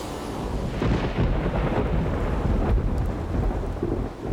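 Thunder rumbles low and heavy through steady pouring rain, a storm soaking a race track, with the rolling booms building and fading over a constant hiss of falling water.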